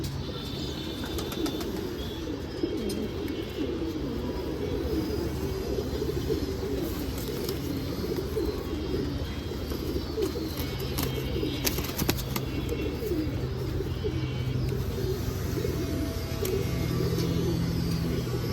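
Pigeons in a loft, some newly acquired and including a young bird, coo softly amid a steady wash of background noise and passing traffic, with occasional wing flutters.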